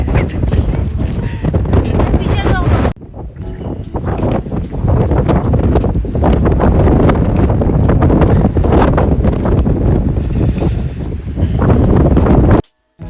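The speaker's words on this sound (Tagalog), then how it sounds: "Sobrang lakas ng hangin." Strong, cold, continuous wind in Canada roaring and buffeting the microphone, loud and broadband, with a brief drop near the start and a cutoff at the end.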